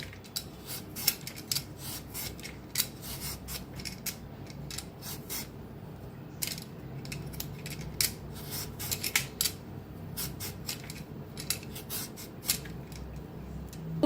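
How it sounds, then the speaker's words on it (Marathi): A washed mango being grated, with steady rhythmic scraping strokes close up, repeated rasping bursts with short pauses between them and no talking. "स्वच्छ धुवून घेतलेला आहे आंबा, असा किस काढून घ्यायचा"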